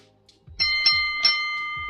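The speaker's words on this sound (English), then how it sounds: "if it is bold enough, you will hear the bell." Bell sound effect marking a bold prediction on a live hockey talk show: several bright, ringing dings in quick succession, each sustaining a clear, steady tone.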